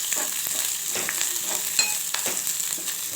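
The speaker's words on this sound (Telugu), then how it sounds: "ఇప్పుడు ఇందులో ఒక ఆనియన్స్ వేసుకుందాము. ఇలా ఒకసారి కలిపేసుకోవాలి." Onions frying in oil for a village-style mutton curry, stirred with a spoon: a steady bright sizzle with a few soft scrapes, close up, without any voices.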